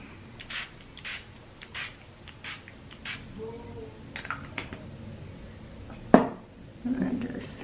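Short bursts of Tarte Rainforest of the Sea setting spray misted over a made-up face, several quick pumps in an uneven rhythm, close and fairly soft, with light handling noises between them.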